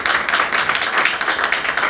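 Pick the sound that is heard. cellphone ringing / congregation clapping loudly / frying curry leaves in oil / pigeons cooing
congregation clapping loudly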